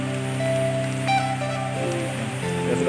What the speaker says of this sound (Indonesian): Ini lagi hujan teman.